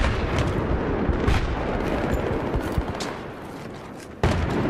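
A sustained barrage of gunfire and blasts rumbles in the video game Battlefield 3 multiplayer on PS3, dense overlapping shots that ease slightly before a sudden loud burst near the end.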